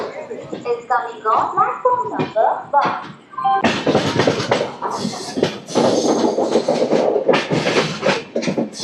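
The 12862 Mahbubnagar–Visakhapatnam Superfast Express, running at about 130 km/h between Kazipet and Warangal, makes a loud, continuous rumble with rhythmic clatter. A person talks over it at first, then the train noise swells and dominates.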